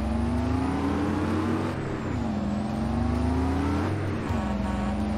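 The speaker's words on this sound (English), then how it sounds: "Listen to that engine." A tractor or farm vehicle engine in a farming video game drones and revs loudly, its pitch rising and dipping as the throttle shifts, steady and close with no voices.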